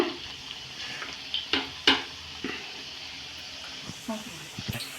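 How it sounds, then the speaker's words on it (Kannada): Food frying in hot oil in a pan, a steady close hiss of sizzling broken by a few sharp clinks and scrapes as pieces are stirred and turned. "ಈ ಥರ ಎರಡೂ ಸೈಡು ಎಣ್ಣೆಯಲ್ಲಿ ಫ್ರೈ ಆಗಬೇಕು ಚೆನ್ನಾಗಿ ಫ್ರೈ ಆಗಲಿ"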